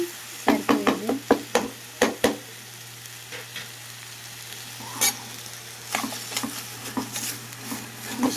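Onion and green chili paste fries in a pan with sharp, quick stirring clacks at the start, then a soft steady sizzle broken by occasional scrapes and taps, close by and without speech.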